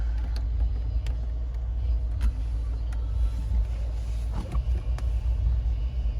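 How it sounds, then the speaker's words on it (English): A 2017 Mercedes GLS AMG 63 idling, with a steady low engine and exhaust rumble close by and a few faint clicks on top. "I believe this has an exhaust that opens up. Hear the motor there."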